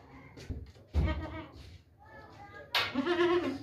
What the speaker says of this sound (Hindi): ये देखें भाई, गब्बन बकरी है, सोने वाली बकरी है।